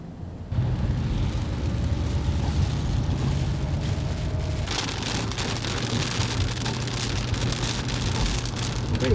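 Heavy pouring rain drums steadily and loudly on surfaces, a continuous dense roar that swells slightly partway through, with no voices.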